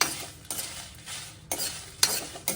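Dried red chillies, about ten ordinary ones, roasting on a low flame in a pan for chicken ghee roast masala, with repeated stirring scrapes every half second over a soft, steady dry sizzle, close and fairly quiet.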